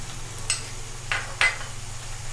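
Fried mustard masala with salt and turmeric gets stirred in a pan, giving three brief scraping strokes over a low, steady sizzle, close and fairly quiet.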